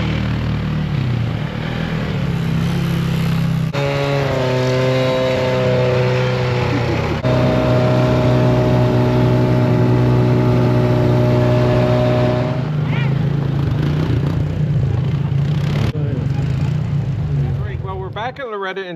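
A gasoline chainsaw engine runs for a sustained stretch, a buzzy, droning motor whose pitch climbs and drops as it revs and settles, loud and close, before cutting off near the end.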